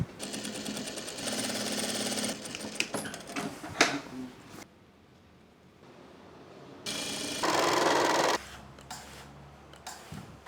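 A sewing machine stitches pockets onto a pair of pants, running in several loud close bursts with brief pauses and a quiet stretch between them.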